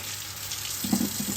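Hurom H300 juicer parts, stained from purple cabbage and beet juice, rinsed under a running tap, giving a steady hiss of flowing water with brief splashing as the pieces pass through the stream.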